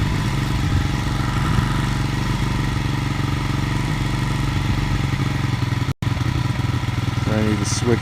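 A moped engine runs steadily outside, a loud continuous buzzing drone with slight clatter that holds throughout, broken only by a brief dropout near the end.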